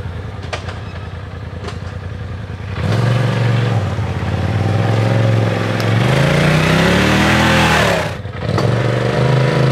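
A Turbo S EVO car engine and exhaust rev steadily and loudly, rising in pitch and then dropping back near the end, with no voices.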